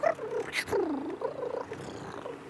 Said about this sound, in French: Un petit chat? Qu'est-ce que tu viens faire là?